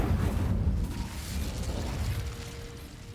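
An Incendio fire spell cast in Hogwarts Legacy makes a loud, rushing burst of flame that roars at the start and then tapers into a lingering crackling rumble.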